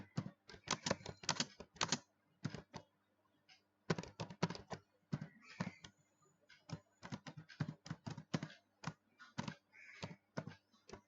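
Rapid bursts of typing on a computer keyboard while entering HTML code, clicky keystrokes in quick clusters separated by short pauses, close and fairly quiet with no talking.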